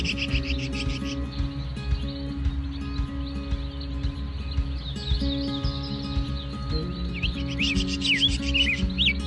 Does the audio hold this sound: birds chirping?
yes